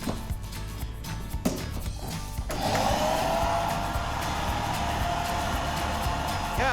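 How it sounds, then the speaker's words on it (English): A vacuum cleaner plugged into the house power in a renovated Victorian home switches on partway through, its steady whooshing motor hum replacing quieter room noise and running on loudly. "I'm gonna grab a vacuum cleaner or something like that, plug it in, and we'll see it happen here."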